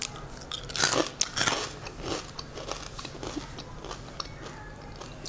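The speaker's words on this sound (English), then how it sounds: "Can you hear the crunch of the croutons?" Crisp crunching and chewing of croutons in tomato soup up close, a run of brittle cracks that thins out into quieter, sparser crunches.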